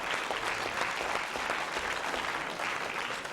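A studio audience claps steadily, a dense and even wash of applause held at a constant level throughout, with no talking over it.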